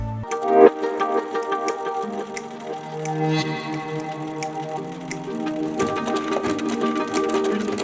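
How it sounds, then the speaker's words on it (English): A sewing machine stitches around the edge of a fabric face mask, giving a rapid, steady run of mechanical ticks and needle clatter that continues close and clear with no talking. "we're gonna sew all the way around with just leaving like a 1/4 to 1/2 inch edging"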